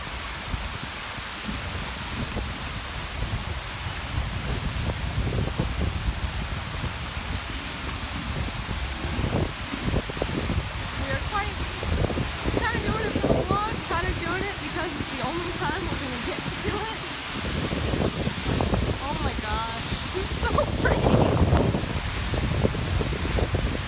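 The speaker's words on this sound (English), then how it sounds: "We're behind the waterfall." Steady roaring rush of falling water heard from behind an Icelandic waterfall, broadband and constant, with wind buffeting the microphone and occasional faint voices underneath.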